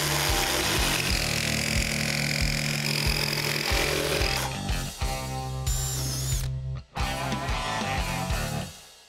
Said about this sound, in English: Now that we're done with jigsawing, we're ready for the next step.